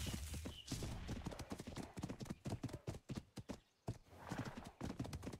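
Horse hooves clip-clopping at a run in the modded video game Ark Survival Evolved, a steady rapid gallop rhythm with occasional whinnies, close and fairly loud with no talk over it.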